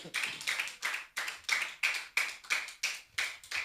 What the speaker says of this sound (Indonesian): Tepuk tangan bagi Bapak Yahweh.